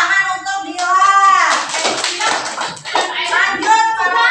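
A classroom claps for a student, a lively burst of many small hands clapping mixed with children's voices and a sung cheer, close and loud.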